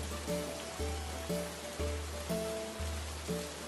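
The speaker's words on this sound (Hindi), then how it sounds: "कुछ दिनों बाद उस गाँव में 3 दिन तक लगातार बारिश होती रही।" Continuous rain falls steadily over a village during a three-day downpour that brings flooding, a constant soft hiss running under a repeating tonal musical pattern, with no voices.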